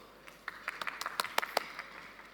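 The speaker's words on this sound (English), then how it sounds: "How come only this side is clapping?" Scattered applause from part of an audience at an architects' panel discussion, a handful of separate claps in an uneven patter that stays fairly faint and sparse.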